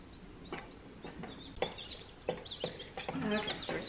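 Baby chicks in a brooder peep with repeated short, high chirps, scattered irregularly and fairly faint over a soft background hum.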